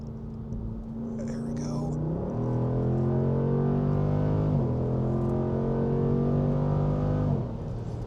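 A Dodge Durango SRT Hellcat or R/T 392 SUV pulls hard on a race track, its engine droning loud and steady with rising revs and three quick gear shifts dropping the pitch, heard from inside the cabin.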